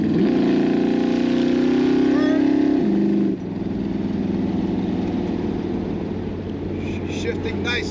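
A car fitted with a new Mopar A727 automatic transmission on a test drive: a steady, fairly loud engine drone that drops in pitch as the gearbox shifts, then carries on at a lower, even hum.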